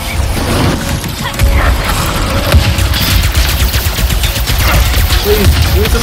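Enemy gunfire in the video game Ratchet & Clank: Rift Apart, dense rapid bursts and mechanical clatter running throughout over a low rumbling backdrop, loud and close.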